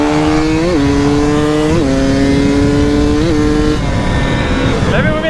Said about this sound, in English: Come on, Kyle, let me see those wheelies.